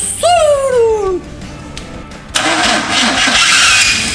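The starter motor cranks a car's Ecotec engine with a whining rising-then-falling tone, and the engine catches and settles into a loud, rough idle close by.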